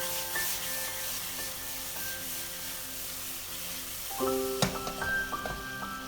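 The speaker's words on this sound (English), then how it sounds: "add in about 1 teaspoon of fish sauce into the hot wok to heat it up" Fish sauce hits a hot wok while cooking Thai basil chicken, giving a faint steady sizzle, then a sharper burst of crackling and splattering near the end.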